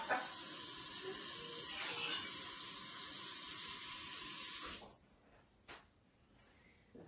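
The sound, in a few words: filling container with tap water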